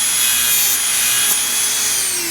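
A steady, continuous grinding rasp as the head of a part is shaved down on a 1969 Roadrunner, loud and close, with no pauses through the whole stretch.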